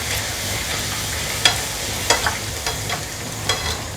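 Poori puffing as it fries in hot oil, a steady soft sizzle with scattered light crackles and pops, close and moderately loud, no voices.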